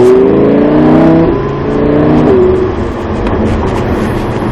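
A Lamborghini on the Montlhéry race circuit accelerates hard, its engine revving loud and close with rising pitch sweeps through gear changes, one steady roaring run throughout.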